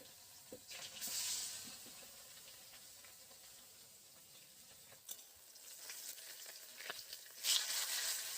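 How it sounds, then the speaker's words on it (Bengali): Pieces of catla fish fry in hot oil, giving a soft continuous sizzle with sharper bursts of spitting and a few stirring clatters, heard close and alone. "গরম হয়ে গেছে, মাছগুলো ভেজে নেব।"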